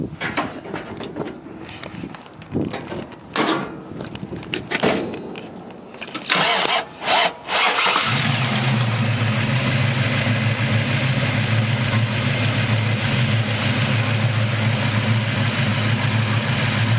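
A 1967 Chevy Nova II with a 327 V8 and four-speed is started after a stretch of rustling and handling noise. It catches with a loud burst, then settles into a steady, rumbling idle close by.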